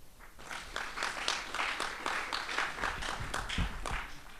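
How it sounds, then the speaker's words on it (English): A small group at a recycling competition awards ceremony claps for a few seconds, uneven and fairly close, with no talking over it. "give yourselves a round of applause for that"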